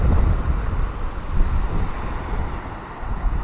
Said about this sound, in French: Je ne sais pas si on m'entend bien avec le vent